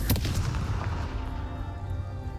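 Confringo fire spell blasting in the Hogwarts Legacy video game, one sharp booming burst at the start that rumbles and decays over the next two seconds.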